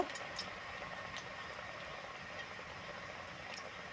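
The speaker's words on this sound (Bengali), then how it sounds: "ওই বলবলগুলোকে আমরা এবারে আস্তে আস্তে করে তেলের মধ্যে দিয়ে দেব।" Raw banana kofta balls frying in hot oil, a soft continuous bubbling sizzle with faint crackles and pops, steady and fairly quiet throughout.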